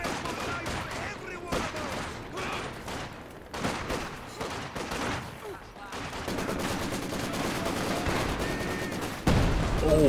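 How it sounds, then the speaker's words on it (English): Explosions and gunfire rumble through a Company of Heroes 2 battle as an artillery barrage strikes a house, bursts and rattling shots recurring throughout under a commentator's voice. "Oh, it's this barrage into the house."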